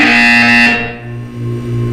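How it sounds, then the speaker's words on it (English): Loud electronic buzzer from the video game Portal 2, a harsh, steady tone that sounds for most of the short moment and then fades down, alone. "When you hear the buzzer, look down at the floor."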